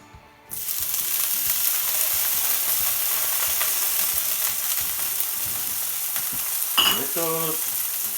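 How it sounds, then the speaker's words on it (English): Brood X cicadas sizzle loudly and steadily as they are sautéed in a hot pan for tacos, with a few scraping stirs, and a short spoken remark comes near the end. "At this point, we re-saute them, add tomatoes, chilies, which I've already prepared."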